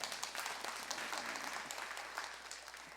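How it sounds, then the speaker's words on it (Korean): A church congregation applauds during a Sunday worship service. The clapping is soft and somewhat distant, a dense patter that continues evenly for a few seconds. "박수로 한번 격려해 주시기"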